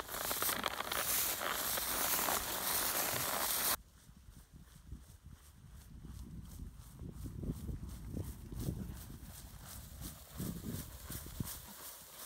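A ridden horse walks and then trots, its hoof clip-clops steady and close. A loud broadband noise such as wind or handling fills the first few seconds before the footfalls come through clearly.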